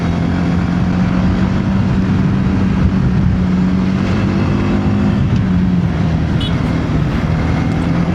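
A TVS Apache RTX 300 adventure motorcycle is ridden at a steady pace, its engine droning continuously, loud and close, mixed with rushing wind and road noise, with no talking.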